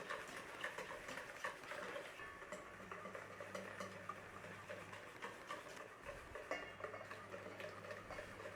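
Hot milk poured gently into eggs for a custard tart, heard as a soft, faint, continuous stirring and scraping in a bowl with light clinks and a low hum underneath.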